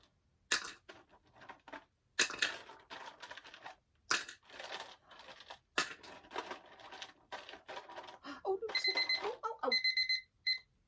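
A kitchen-style timer set for ten seconds during a counting activity with toy dinosaurs and a small orange bowl; scattered clicks and clatter, then a bright repeating electronic beep sounding off near the end.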